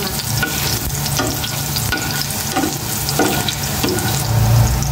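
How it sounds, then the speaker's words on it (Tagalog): Onion and garlic sautéing in a pan, a constant close sizzle and crackle with scraping stirs repeating throughout, with no talk. "Gisa mo maigi."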